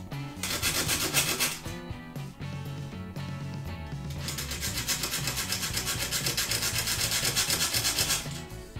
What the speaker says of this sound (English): I'm just going to use a little tiny hacksaw and see if I can get that, get it right down in there and be able to trim it off